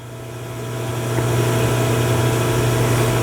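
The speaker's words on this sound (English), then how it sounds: "we do have the hydraulics going on right now." Hydraulics running on a Royal Master centerless grinder with an automatic cycle option, a steady low mechanical hum and vibration swelling slightly louder, then holding constant and close.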